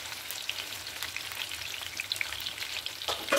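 Chicken pieces frying in medium-hot oil in a pan, a steady close crackling sizzle with faint stirring and a few sharper pops near the end.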